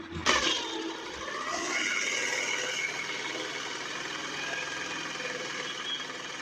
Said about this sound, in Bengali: আর ইঞ্জিনের সাউন্ডটা যদি আপনাদের মাঝে শেয়ার করি, যে ইঞ্জিনের সাউন্ডটা বর্তমানে আমাদের কীরকম সাউন্ড করতেছে।